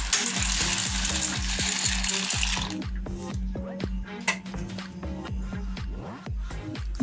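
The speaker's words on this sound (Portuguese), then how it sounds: "A água aqui já está fervendo" Water boils in a pot for pasta with steady bubbling and popping, a hissy rush at first, then rhythmic bubbling alone.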